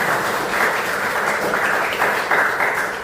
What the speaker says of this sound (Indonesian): Kasih tepuk tangan dulu untuk panitia.